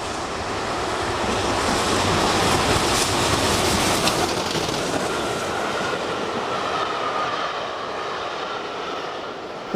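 The steam locomotive Clan Line 35028 roars steadily past Chilham Station, close and loud. Its rushing, rumbling noise fills the scene throughout, with no voices.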